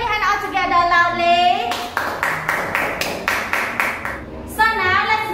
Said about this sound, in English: Clap your hand all together loudly.